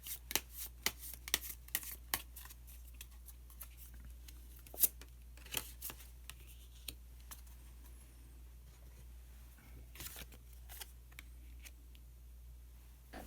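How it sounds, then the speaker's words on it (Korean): Osho Zen tarot cards being shuffled and drawn: quiet scattered flicks, taps and slides of card stock in irregular bursts over a low steady hum, with no voices. "마지막으로 오쇼젠 카드 한 장 더 뽑아보도록 하겠습니다"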